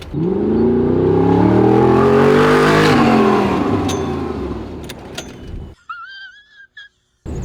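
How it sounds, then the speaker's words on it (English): An Audi R8 engine revs hard and loud during a handbrake test. The pitch rises and holds for several seconds, then falls away. It is followed by near-silence broken by a few brief chirps and clicks. "Let's do extreme handbrake testing."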